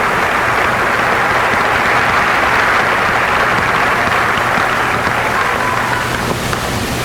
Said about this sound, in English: You can go ahead and give our seniors a round of applause